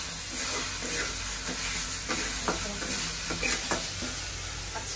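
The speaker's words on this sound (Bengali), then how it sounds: "আমি যেহেতু মশলাটা কষাচ্ছি এখানে একটু লো ফ্লেমে কষাতে হবে।" Spice masala for Bengali chicken kosha fries in oil over a low flame while being stirred, giving a steady close sizzle broken by scraping spoon strokes, with no voices.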